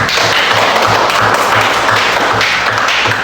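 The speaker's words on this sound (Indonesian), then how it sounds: "tepuk tangan dulu untuk Yuli" A classroom of students claps for a classmate in an Islamic history lesson at a vocational high school, a loud, close burst of many hands with steady rhythmic thumping beneath.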